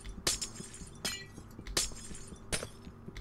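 Glass blocks breaking in the video game Minecraft: four sharp shattering crashes spaced about a second apart, loud and close over a low game hum.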